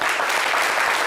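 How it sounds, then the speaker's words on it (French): Studio audience on a French-language television show applauding, a dense, steady burst of clapping throughout, close and loud. "Vous n'avez qu'à vous applaudir un peu ici."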